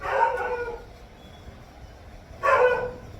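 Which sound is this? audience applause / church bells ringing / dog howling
dog howling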